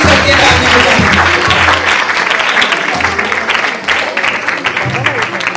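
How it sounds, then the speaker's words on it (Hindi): Enthusiastic congregational applause at a church Christmas celebration, loud sustained clapping with crowd noise and a voice speaking over it. "हम उनसे जो भी सुनेंगे खुदावंद की इस्ताइश के लिए जोरदार तालियां बहुत खुशी करके तालियां बजाएंगे"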